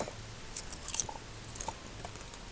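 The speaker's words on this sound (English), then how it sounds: "You attack the nearest human. He's old and weak. And his bones crunch" Crunching, chewing bone-snap effect from a game as a monster devours an old, frail human, a few sharp close crackles in quick bursts over a quiet background, with no talking.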